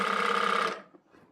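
Sewing machine stitching a shirt sleeve onto the shoulder at a half-inch seam, a short burst of rapid close whirring that stops abruptly, followed by faint handling sounds.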